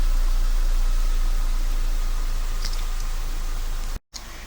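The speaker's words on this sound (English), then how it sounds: "Parking lights on the vehicle will turn on, the engine will start, the vehicle will run for 15 minutes" Car engine idling after a remote start on a manual-transmission vehicle fitted with a Fortin plug-and-play kit, a steady low broadband rumble with a brief dropout near the end.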